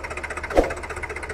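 A steady engine chugging from a Sonalika Tiger 50 HP creeper-gear tractor, with a regular pulsing rhythm, close by and fairly loud, with a brief louder knock in the middle.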